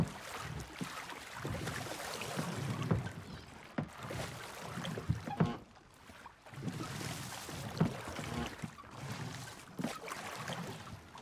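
Rowboat being rowed in the video game Sea of Thieves, with rhythmic sloshing strokes of oars through water and creaking wood, repeating in waves every couple of seconds over faint background wind and sea noise.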